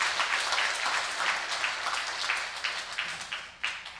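A congregation at a Korean Sunday worship service claps together, a fairly soft, steady wash of hand claps with a few sharper individual claps standing out near the end.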